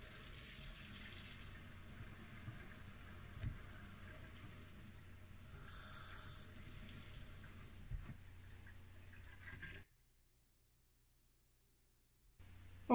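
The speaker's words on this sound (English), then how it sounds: "start filling the sink with hot water" Hot water runs from a tap into a stoppered bathroom sink, a steady, fairly quiet rushing splash that continues for about ten seconds and then stops abruptly, leaving near silence.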